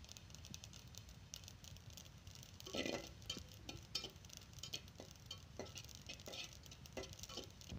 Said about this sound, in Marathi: तीळ आपले भाजून झालेत। तीळ भाजताना तेल घालत नाही आहे मी।